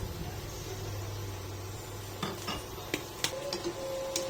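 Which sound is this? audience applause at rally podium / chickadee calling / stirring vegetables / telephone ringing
stirring vegetables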